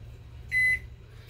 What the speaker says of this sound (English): And you set the timer.